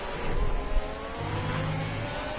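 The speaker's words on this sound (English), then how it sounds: "Curbs are being abused in the background, as you can hear from the sound effects." Formula 1 racing cars in a video game run steady engine drone and revving, with a rougher low rumble partway through as cars ride over curbs at the Italy circuit.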